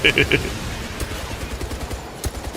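Gunfire in a first-person video game with red barrels about. A quick burst of three rapid shots is followed by scattered impacts and a couple of later sharp bangs, all under a talking voice.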